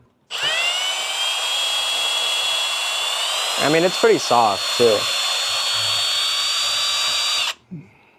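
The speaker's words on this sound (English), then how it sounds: "So I'm gonna drill out the rivets on the other side" A high-pitched power drill drilling out rivets on a Mitsubishi Lancer Evolution 9 bumper whines steadily at close range for several seconds, while someone speaks briefly over it before it stops.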